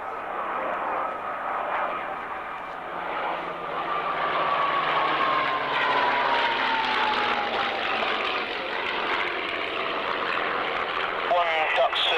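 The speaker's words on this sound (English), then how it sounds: "Messerschmitt running in." A Messerschmitt's aircraft engine drones steadily through a flying display at Duxford, a sustained, fairly loud roar with a slowly falling pitch as it passes, partly under radio chatter and voices.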